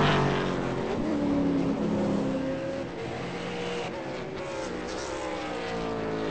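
A Ford Falcon V8 Supercar engine at Oulton Park during qualifying, a steady loud roar with shifting harmonic revs and some overlapping car noise throughout, no talk.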